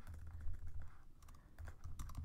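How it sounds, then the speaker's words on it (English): Quick, irregular keystrokes on a computer keyboard while writing Java code form a soft clicking patter with short pauses, close and quiet, with no talking. "So I can keep typing."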